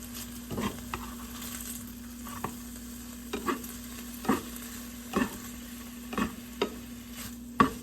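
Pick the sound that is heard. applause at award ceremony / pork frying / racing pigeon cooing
pork frying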